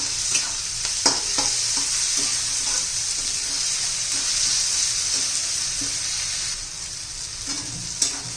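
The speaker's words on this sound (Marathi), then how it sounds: "आता टोमॅटो घालून घेऊया ते पण चांगला मऊ पडेपर्यंत आपल्याला शिजून घ्यायचं आहे" Tomatoes fry for a village-style dry drumstick curry while a spoon stirs them, producing a steady bright sizzle broken by periodic scraping and tapping strokes against the pan.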